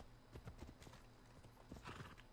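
Horse hooves gallop in a quick, rhythmic clip-clop in the video game Assassin's Creed Odyssey, faint and steady, with no talking.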